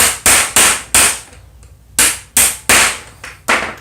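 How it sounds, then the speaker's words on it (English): A regular small hammer tapping a ceramic bearing out of a fidget spinner, giving sharp, loud, close metallic knocks in an uneven series of about eight strikes with brief pauses between them. "I'm using just a regular little hammer."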